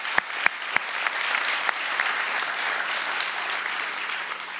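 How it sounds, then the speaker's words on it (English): Audience applause for a camera operator at a spring Dream Team event, steady, dense clapping across the whole stretch with a few sharp, louder claps standing out near the start. "Big round of applause for Jack."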